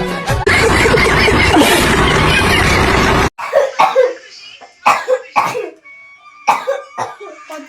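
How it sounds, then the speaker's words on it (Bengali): A girl coughing repeatedly and loudly at close range: a dense burst of harsh coughing, then a series of separate coughs with short pauses between them. "কেশে যাচ্ছে তখন থেকে মেয়েটা কেশেই যাচ্ছে"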